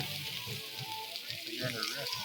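Sausage sizzling on a Blackstone flat-top griddle, a steady soft frying hiss with faint crackle, moderately quiet and continuous throughout.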